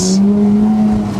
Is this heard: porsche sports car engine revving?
yes